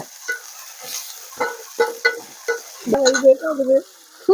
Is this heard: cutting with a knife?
no